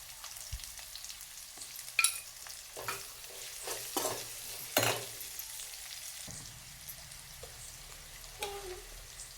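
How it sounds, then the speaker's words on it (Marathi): Sliced onion with a little turmeric fries and is stirred in a pan for a village-style veg biryani, a steady close sizzle broken by several sharp scraping stirs, with no talking. "कांदा चांगला भाजून घ्यायचा आपल्याला थोडीशी हळद टाकायची आपल्याला त्याच्यातच"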